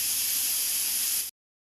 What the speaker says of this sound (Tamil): இப்போ ஊற வச்சுருக்கிறதுனால ஒரே ஒரு விசில் மட்டும் விடுங்க.